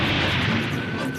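Spaceship weapons firing in an animated space series, a loud, sustained rumbling blast with a crackling roar that fades slowly, close and dense with no clear pauses.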